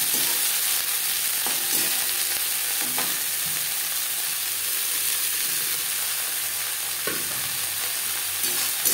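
Chopped Brahmi greens frying in a pan over a medium flame, a steady loud hiss and crackle of hot oil filling the whole stretch, with occasional soft stirring scrapes and no talking.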